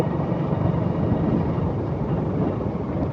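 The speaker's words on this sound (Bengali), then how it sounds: "আর এই হচ্ছে আমার গ্ল্যামার বাইক 125cc" A Hero Glamour 125cc motorcycle engine runs with a steady, continuous hum and road rumble while riding, loud and even throughout with no talking.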